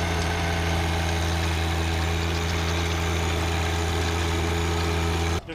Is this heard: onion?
no